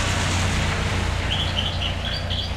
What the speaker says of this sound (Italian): Vedi l'uccellino, cipi cipi.